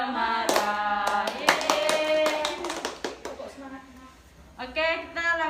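A group does a rhythmic spirit clap (tepuk semangat) during a class activity, with sharp patterned hand claps in quick bursts interleaved with voices chanting and calling out along with the beat.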